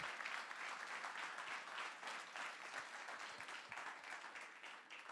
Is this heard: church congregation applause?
yes